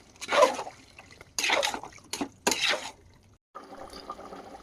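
Chicken pieces being mixed into gravy in a pot for a village-style handi chicken curry, giving wet squelching and sloshing bursts in three or four separate strokes, fairly close, then a quieter stretch of low background noise.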